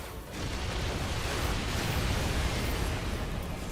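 Explosions in the video game Final Fantasy XIV: Endwalker, a dense rumbling roar of blasts that swells after a brief quieter start and stays loud and continuous to the end, no talking.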